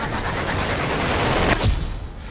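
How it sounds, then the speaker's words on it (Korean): An explosion in an underground apartment parking garage, heard as a loud, sustained roar of noise with a heavier low boom swelling about two-thirds of the way through, no voices. "매일 오가던 지하 주차장에서 폭발 사고가 일어났다"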